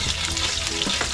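Garlic sizzles steadily in hot oil in a pan, a dense, continuous frying hiss with faint stirring scrapes, close and fairly loud with no talk.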